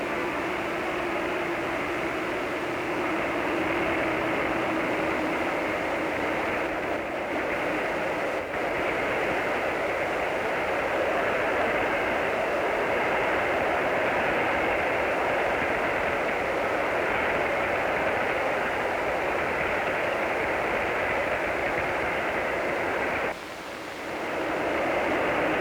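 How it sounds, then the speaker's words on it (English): Southern Pacific freight train rolling on its way, a steady, unbroken rumble and hiss of movement sustained at even loudness, briefly dipping near the end, with no voices. "a new crew takes over our train, and it is again on its way"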